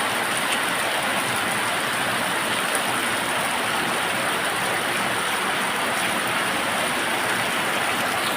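Steady, dense roar of heavy monsoon-season rain in Udon Thani, Thailand, a constant broadband wash that holds at the same loudness throughout with no voices.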